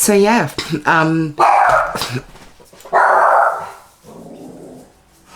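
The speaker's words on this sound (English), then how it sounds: "again, sorry about my dog." A dog barks and growls several times nearby, with whimpering yips in between, while someone talks indoors over the noise.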